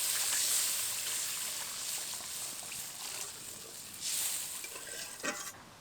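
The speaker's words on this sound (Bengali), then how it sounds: "এবার এর মধ্যে পরিমাণ মতো জল দেব।" Water is poured into hot, sizzling spice masala in a pan while cooking a hilsa curry, giving a continuous close hiss and bubbling fry that swells briefly partway through.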